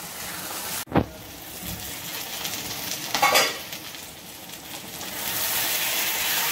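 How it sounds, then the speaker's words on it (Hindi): Chicken pieces browning in oil in a pan for Mughlai chicken, a steady close sizzle with a sharp utensil knock near the start and a brief burst of stirring midway, no voices. "अभी हमारा चिकन भुन रहा है, ये अभी और भुनेगा"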